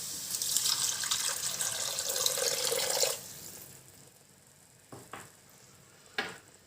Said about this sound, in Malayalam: ഈ സമയത്ത് നമുക്ക് കുറച്ച് വെള്ളം ഒഴിച്ച് കൊടുക്കാം അതിലേക്ക്.